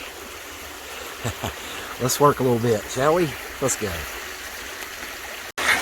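Creek water runs steadily in the background at a quartz-filled creek during gold prospecting and sluicing, a soft continuous rush under someone talking.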